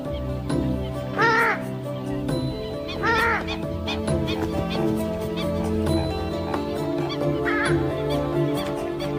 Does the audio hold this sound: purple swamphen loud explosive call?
yes